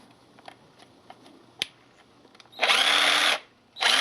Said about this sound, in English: Oh, I got a new drill here.